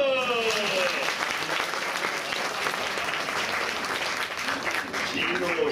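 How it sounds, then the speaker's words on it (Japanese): An audience at the Turtle Talk show in Tokyo DisneySea claps steadily and densely for several seconds, with voices heard over the applause. "みんな拍手だ"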